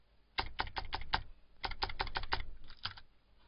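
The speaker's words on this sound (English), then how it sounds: "I just move the key from my keyboard, the arrow key, and that makes one step every time." A computer keyboard arrow key is tapped repeatedly in quick bursts of about five clicks each, the sharp taps close and distinct against a quiet background.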